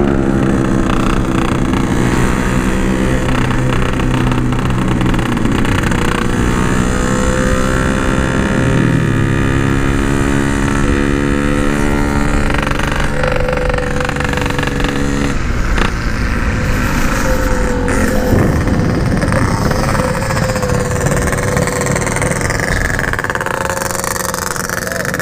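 A Yamaha RX King two-stroke motorcycle with a ported OS 150 block, run flat out toward a 139 km/h top speed, revving loud and close with rising and falling pitch through gear changes.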